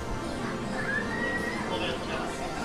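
A horse neigh rings out from an arcade horse-racing machine in Japan, a single rising whinny that sits over the steady din of a busy game hall.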